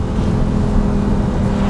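A supercar engine droning loud and close on backroads, a steady dense roar with no clear gaps through the brief stretch, heard from inside the car.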